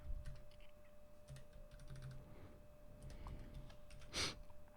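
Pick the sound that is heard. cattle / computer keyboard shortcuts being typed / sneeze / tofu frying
computer keyboard shortcuts being typed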